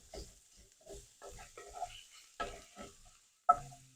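Onion and pork sausage frying in a cast iron pan, bursts of quiet crackling and spitting with gaps between them, ending in a sharper clank, close but faint.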